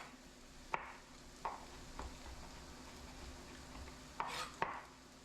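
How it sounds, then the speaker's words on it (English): A knife cutting a mushroom on a cutting board in a home kitchen, giving a handful of sharp, irregular chops over faint frying in the background; quiet and close, with no speech. "let's cut up our mushroom"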